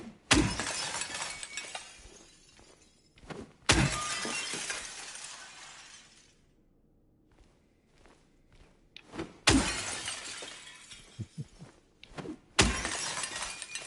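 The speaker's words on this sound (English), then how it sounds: "I'm going to smash all the freaking glass" Glass smashes repeatedly in the Silent Hill 2 Remake video game, several loud shattering crashes with tinkling debris trailing off between hits, separated by quieter thumps.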